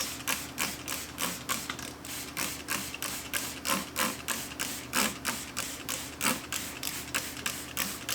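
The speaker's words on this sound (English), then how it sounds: "let me grab the squirt bottle" A squirt bottle sprays water onto paper towels to dampen seeds being tested: a long series of quick, hissing squirts in a fast, steady rhythm, close and moderately loud, with no speech.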